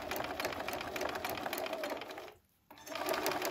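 A sewing machine stitches along the edge of a potholder with a rapid, close mechanical whir and rhythmic needle clatter. It pauses briefly, then runs on again.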